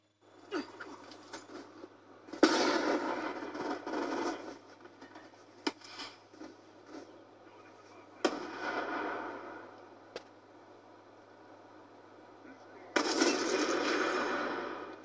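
Sniper rifle shots in a first-person shooter video game during a quickscope play, with sharp loud cracks at intervals, each followed by a few seconds of dense, noisy game sound.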